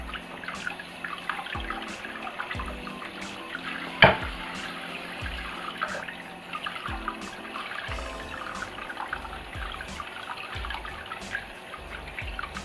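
Tap water runs into a sink while pork neckbones are washed under it, a steady close rush with small splashes and one sharp knock partway through.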